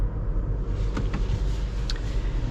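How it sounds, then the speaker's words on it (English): A 2025 BMW X6 M60i pulls away, its engine a steady low rumble throughout with a couple of brief higher-pitched clicks or whirs over the top. "Let us set off in the X6 M60i."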